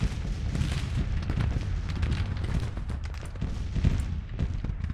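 Cannon and rifle fire from a Civil War battle in the strategy game Grand Tactician, a dense, continuous crackle of musketry with deeper booms rolling underneath, no talking.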